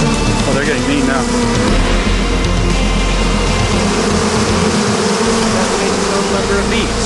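A huge swarm of bees, around 87 pounds, clings to a person's body and gives off a loud, continuous buzzing drone that fills the whole stretch.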